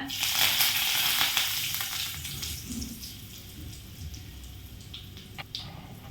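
Dried red chillies and curry leaves dropped into hot oil with fenugreek seeds while making appalam puli kuzhambu, a loud crackling sizzle at first that settles into quieter bubbling with a few sharp pops, no voice over it.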